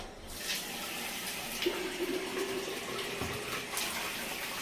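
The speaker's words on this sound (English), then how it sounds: "I'm going to rinse this out with the main part of the tub real quick" Tap water running into a bathtub while a plastic vacuum cleaner part from a Dirt Devil Dynamite is rinsed under it, a steady close rush of water with brief splashy changes as the part moves.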